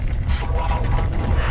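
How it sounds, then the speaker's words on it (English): Steam hissing through a pipe at the Bottle Rock geothermal power plant, a steady, loud, broadband rushing hiss with a deep rumble underneath, continuous and alone throughout. "What you hear is steam passing through the pipe."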